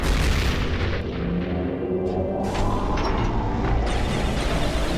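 Dense, continuous booming gunfire and blasts from a Skibidi Toilet episode fill the whole stretch, loud and close, with no voices.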